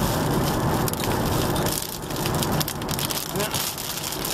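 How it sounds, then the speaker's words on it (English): Heavy rain pelts a car on a stormy Fourth of July drive, a dense, steady drumming across the roof and windows with gusty wind surging through; the downpour stays loud and close throughout, with no voices. "there's the rain hitting."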